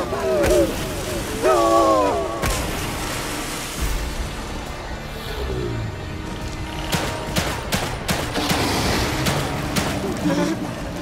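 Gunfire in the video game The Evil Within 2 comes as a series of sharp, fast bursts of shots, with game sounds in between and someone talking over them.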